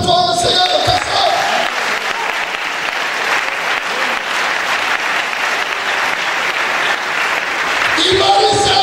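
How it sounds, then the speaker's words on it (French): A church congregation applauds at a Sunday service, sustained and loud like a crowd. Voices sound at the start and end around the clapping. "Est-ce qu'on peut acclamer pour toi le Seigneur de ta foi?"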